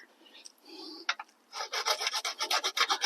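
Metal file rasping on metal, a few scattered scrapes at first, then a run of rhythmic back-and-forth strokes, close and harsh, with no talking.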